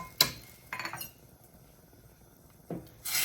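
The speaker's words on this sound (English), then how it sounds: "We're going to add our orzo in" A few sharp clinks and rattles of dry orzo against a metal pot of boiling water, spaced apart with quiet pauses, ending in a louder scraping burst.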